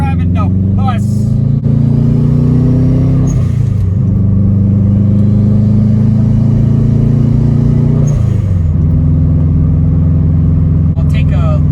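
Subaru Forester STI engine climbing a hill, a loud steady low drone inside the cabin with two gear changes marked by brief dips and rises in pitch, continuous throughout.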